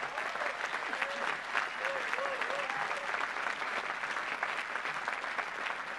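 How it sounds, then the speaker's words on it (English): A large commencement crowd applauds for graduates' parents, sustained even clapping at moderate distance with faint voices and whoops riding over it. "Maybe they deserve a nice round of applause from you."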